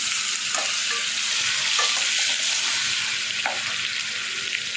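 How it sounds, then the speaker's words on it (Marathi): Ground garlic and cumin paste hitting a hot pan with dried red chillies and curry leaves, a continuous bright sizzle with a few soft stirring knocks, alone without talk. "आता मी टाकते लसूण आणि जिरं वाटलेलं होतं मी"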